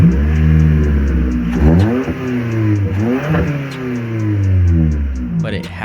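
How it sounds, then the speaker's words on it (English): Toyota Camry engine fitted with a K&N open air intake, revving up and down in several strong rising and falling sweeps, loud and close with an intake whistle, while a few faint ticks sound in the background. "It provides a lot of air to the engine and gives me a nice whistle, also with a louder engine roar."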